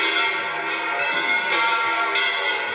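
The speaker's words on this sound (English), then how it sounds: "he saw it begin to swing back and forth, back and forth. First softly, then so loudly that every bell in the house joined in and rang also" Bells swing and ring throughout a house in a loud, shimmering chorus of overlapping metallic tones, sustained and close, with faint rhythmic pulses and no speech.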